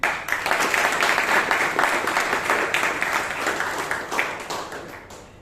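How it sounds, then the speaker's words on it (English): Toastmasters meeting audience in Bangalore applauding together, a steady wash of clapping that holds for several seconds and tapers toward the end, with no voices over it. "Let's give all of us a round of applause for this excellent meeting"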